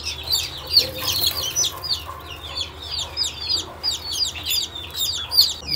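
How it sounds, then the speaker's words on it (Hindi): Several hens, three loosed from a coop near chicks, cluck and squabble with short overlapping calls throughout, steady and fairly close over a low rural background hum. "मुर्गियाँ तीनों मैंने खोल दी फिरेंगे अभी अभी तो ये लड़ रही हैं"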